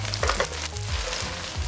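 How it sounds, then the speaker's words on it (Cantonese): Beef frying over high heat in a wok, a steady close sizzle with light stirring scrapes running through, no talking. "We're going to cook the beef for about 40 to 60 seconds on high heat until it's mostly brown."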